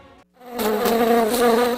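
An insect buzzing effect in a pest control radio ad, a loud, close, steady drone that starts abruptly after a brief hum and gap, alone without speech.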